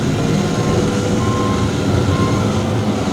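A 2023 JCB 1CXT rubber-tracked skid steer loader runs loud and steady at close range while unhooking its attachment, with a continuous low engine rumble and faint intermittent beeping tones.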